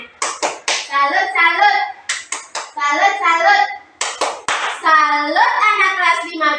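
Grade 5 schoolchildren in a classroom perform a rhythmic salute clap: sharp hand claps fall in quick groups between bursts of chanted young voices, loud and close throughout.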